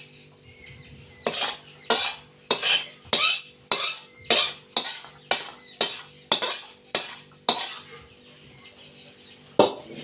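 A spoon scrapes and clanks against a metal pot in a steady rhythm of about a dozen strokes while melted jaggery is mixed for laddu, close and loud over a faint background hum.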